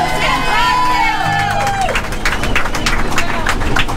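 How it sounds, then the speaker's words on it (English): A tour bus group claps and cheers for their driver during a Yellowstone National Park tour, a steady mass of applause with crowd noise filling the cabin for about four seconds. "Please give a huge hand of a round of applause for our driver, Will."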